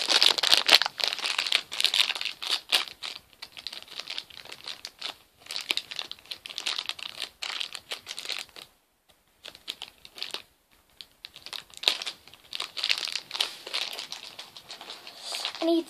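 Crinkly plastic of a Moshlings bag crackles and tears in bursts at close range, pausing briefly midway before resuming with more rustling and crinkling.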